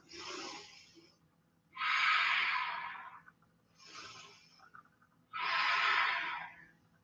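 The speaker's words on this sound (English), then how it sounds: "2 more full deep breaths" Deep, slow breaths during a yoga flow, four full inhale-exhale cycles close to the microphone, each long airy breath separated by brief quiet pauses, no talking.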